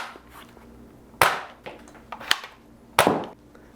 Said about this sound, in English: And prime it, pull the trigger. Fires 1 dart.